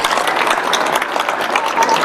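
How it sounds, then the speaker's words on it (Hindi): Children in a seated yoga class clap their hands together in a brisk, sustained burst of group applause, close and loud, with some voices mixed in. "बजाओ एक बार इसी बात के लिए ताली"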